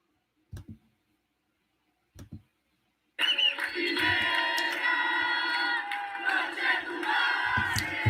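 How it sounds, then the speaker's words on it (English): A whole stadium crowd in Santiago chants loudly in unison, a dense roaring mass of voices that bursts in after a few seconds of near silence broken by two faint knocks, and continues steadily to the end. "this is the sound of an entire stadium in Santiago"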